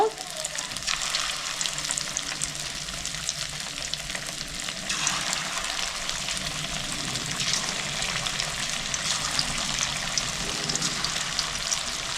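A second batch of chicken fries in oil, giving a steady, dense bubbling sizzle close by, with light stirring and a brief surge partway through.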